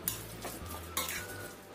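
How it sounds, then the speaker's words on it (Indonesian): A spoon stirs dumpling filling mixed with sugar in a bowl, giving two soft scraping strokes up close with faint clinks of utensil against the bowl and no voices. "Kita aduk lagi sampai tercampur rata."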